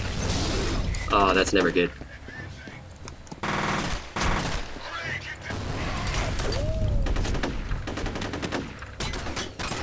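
Sustained automatic gunfire from the first-person shooter F.E.A.R., with rapid bursts and heavy battle noise filling most of the clip under a short spoken line and brief pauses.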